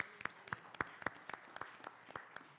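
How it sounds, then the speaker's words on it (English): Sparse, slow clapping from a few people at a school board meeting, distinct individual claps in an irregular rhythm, quiet and somewhat distant. "I want to give a round of applause for her being here."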